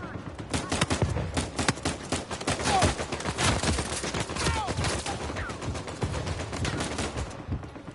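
Pistols fire in Uncharted 4 in quick, dense volleys that overlap into a continuous, loud clatter of shots, with a voice heard faintly in the mix.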